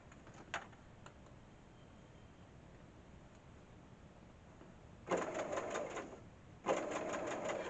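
Domestic sewing machine stitching a fabric facing, running in two short, close bursts of rapid even needle strokes after a quiet stretch with a few faint clicks.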